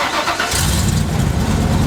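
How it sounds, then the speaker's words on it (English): A car engine cranks and catches on a restart, then settles into a loud, steady running rumble close by, with no voices. "Go ahead and shut the engine off and restart it when you're ready to go."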